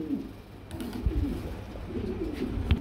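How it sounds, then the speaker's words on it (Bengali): Mondain pigeons in a maxi colour pair cooing softly nearby, a low murmuring coo repeating through the whole stretch with faint background noise. "আরেক জোড়া মন্ডিয়ান কবুতর রয়েছে মাক্সি কালারের মধ্যে"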